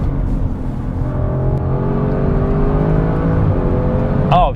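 An Audi RS6 Avant held in third gear accelerates hard with its engine droning and climbing in pitch, loud and close throughout, with a quick shift near the end.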